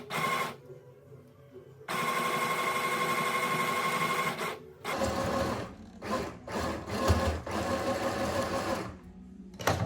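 A domestic sewing machine hemming the bottom edge of a homemade coquette top, running in steady close, loud stitching bursts with short pauses between runs.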